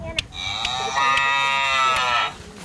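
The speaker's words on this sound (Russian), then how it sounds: "Корова." A single long, loud cow moo with a rich harmonic tone, drawn out for about two seconds before trailing off, heard close and clear.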